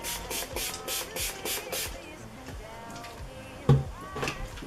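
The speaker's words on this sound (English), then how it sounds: "Now I'm going to go ahead and set my face with the rose water spray." Rose water face spray released in a rapid run of about seven short, even hissing spritzes, followed by quieter handling sounds and a faint bump.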